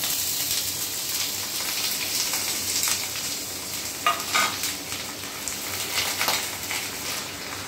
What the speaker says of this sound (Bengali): আমাদের তেলটা গরম হয়ে গেছে, আমি তেলের মধ্যে পেঁয়াজটা দিয়ে দিলাম